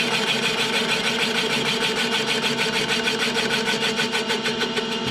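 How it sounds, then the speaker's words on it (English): Boring cutter machining the inside of an engine cylinder, a steady loud mechanical whir with a fine rapid pulsing rhythm running continuously and close, no talk. "you'll hear the cutter stop cutting when you're at the bottom."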